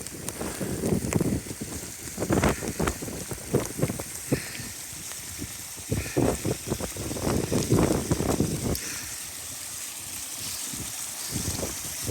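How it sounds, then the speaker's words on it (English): Heavy rain beating down on a hiking path on the Pennine Way near Horton, with water running down the trail; a dense, steady wash of rain comes with irregular louder gusts and spatters. "the rain is beating down, and the path seems to be a little stream"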